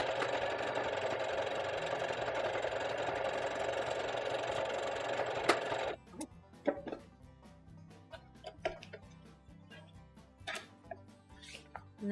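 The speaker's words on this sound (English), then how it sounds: "you will sew this one just like you did with the pull" A sewing machine runs steadily as it stitches a cloth pocket diaper, a dense continuous motor whir for about six seconds that then stops abruptly, followed by quieter clicks and handling sounds.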